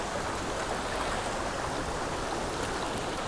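Constant rushing of a jungle river near a waterfall, broadband and steady throughout, close and fairly loud with no voices.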